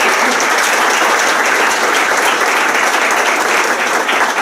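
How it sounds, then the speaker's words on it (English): Audience applause fills a city council meeting chamber, a dense, steady wash of clapping held at an even, loud level throughout with no voices standing out. "So let's give them a nice round of applause."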